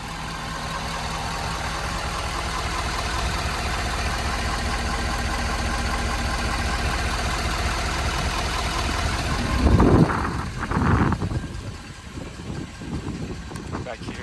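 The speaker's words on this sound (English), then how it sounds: "I'll step out and let you hear it idle." A stock 2018 Ford F-250 Lariat with a 6.7L diesel engine idles at a steady, continuous rumble for most of the clip, then a few louder knocks and thumps break in near the end.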